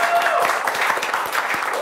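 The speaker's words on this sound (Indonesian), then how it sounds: "Luar biasa, tepuk tangan dulu guys." Studio audience applause on a talk show: a short, dense burst of many hands clapping close by, loud and steady, with a faint voice underneath.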